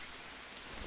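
Rain falling in the jungle survival video game Green Hell, a faint steady hiss of downpour with no other sounds, brief and soft.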